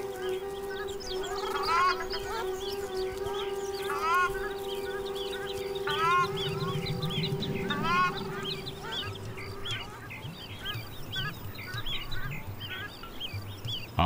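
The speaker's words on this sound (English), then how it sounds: "The parents keep tweeting, reminding the ducklings not to fall behind." Ruddy shelduck parents give repeated nasal honking calls to their ducklings on open ground in Inner Mongolia, a steady run of close calls over continuous wind or water noise.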